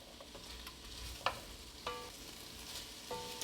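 Mushrooms cook in a soup pot for a homemade creamy chicken and wild rice soup, giving a soft, steady sizzle. A few clinks and scrapes of a utensil against the pot stand out above it, and no one speaks.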